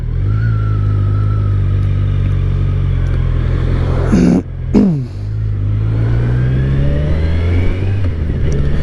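A 2023 Kawasaki Versys 1000 SE adventure tourer pulls hard under acceleration, its engine note climbing, dipping briefly at a gear shift, then rising again loud and close throughout.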